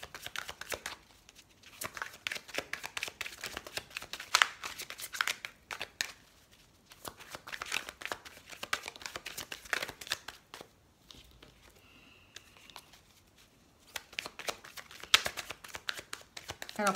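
Oracle cards are shuffled and handled for a tarot-style reading, giving soft, close riffling and papery flicks in bursts with quiet gaps between them.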